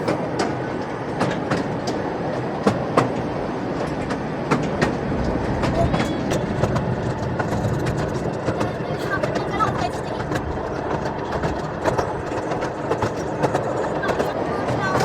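Theme park ride train at Lightwater Valley clatters steadily along its track with rhythmic clicking wheels and rumble, close by, while people chat over it.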